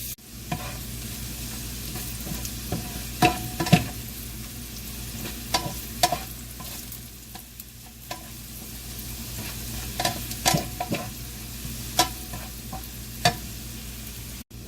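Onions caramelizing in a frying pan while being stirred, a steady close sizzle with repeated spatula scrapes and taps against the pan throughout.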